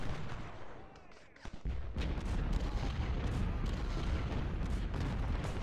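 Civil War artillery firing canister shot in the game Ultimate General: Civil War, a dense continuous rumble of cannon and musket fire, loud and steady, with a brief dip before the barrage swells again.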